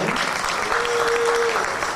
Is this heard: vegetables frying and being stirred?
no